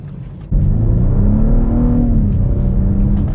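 A 2014 BMW 228i car engine roars up suddenly and revs hard, its pitch climbing as it accelerates, then settles into a steady loud drone.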